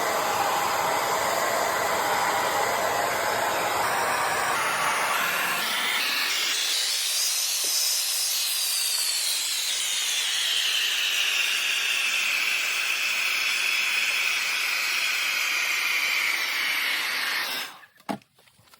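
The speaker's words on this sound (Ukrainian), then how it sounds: "візьму фен. Так, берем фен" Steady, loud blowing hiss of a hair dryer drying a $100 bill cleaned of mold runs for most of the clip and rises in pitch partway through, like a higher setting, then stops abruptly.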